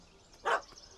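A single short dog bark rings out in The Witcher 3 game, fairly close and loud against a quiet background with no one talking.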